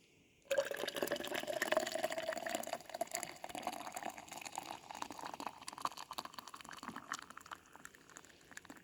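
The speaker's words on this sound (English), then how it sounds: "Time to pour herself a cup." Coffee pouring into a cup at a campsite, a steady liquid stream that starts abruptly and runs for several seconds with a rising fill tone, close and fairly quiet.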